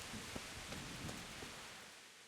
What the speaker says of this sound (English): On this nasty rainy day.